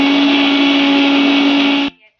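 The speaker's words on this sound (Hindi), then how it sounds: "पहले पीस कर लेंगे।" Kitchen mixer grinder whirring steadily as it grinds fresh coriander, ginger, garlic and coconut powder for mutton korma, a loud continuous motor whine that cuts off abruptly near the end.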